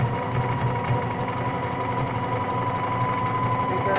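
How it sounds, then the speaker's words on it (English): A sewing machine stitching fabric, running in a continuous even mechanical whir with a fast rhythmic buzz, close and steady from start to finish, with no talking. "And keep on sewing."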